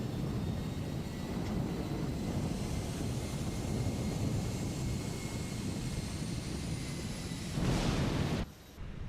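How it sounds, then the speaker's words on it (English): Engine 2 of an Airbus A319 starts up in a flight simulator video game. The whine climbs steadily over a loud, constant jet roar, then cuts off abruptly near the end. "Starting engine 2."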